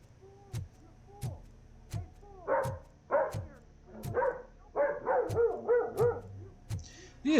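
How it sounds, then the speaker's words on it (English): A dog in an apartment in the Robocop Rogue City video game barks repeatedly, a dozen or so sharp, clipped barks in irregular bursts that crowd together toward the end, fairly close and alone. "there's always somebody with a dog in their apartments who barks at every noise"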